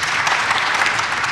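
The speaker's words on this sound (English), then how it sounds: "Let's give him a round of applause." Loud, dense audience applause at a strategic plan launch event, many hands clapping continuously throughout without pause.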